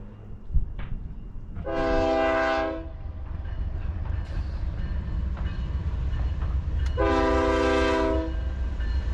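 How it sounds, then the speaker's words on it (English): A train rumbles past at Cajon Pass with low clattering noise, sounding two long, loud horn blasts separated by several seconds. "here comes a train"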